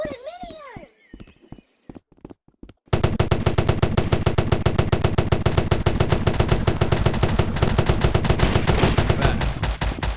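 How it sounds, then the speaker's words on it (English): In the Rec Room game, a golden minigun opens up after a few scattered shots and brief chatter, then fires a long, dense, continuous burst of rapid loud shots that lasts about seven seconds. "He's a golden minigun."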